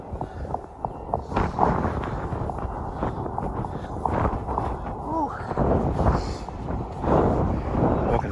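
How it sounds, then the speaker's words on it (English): Wind blusters steadily into the microphone while walking along the Coney Island boardwalk on a cold February day, a continuous rough rumble with voices and crowd chatter mixed in. "Walking right into the wind."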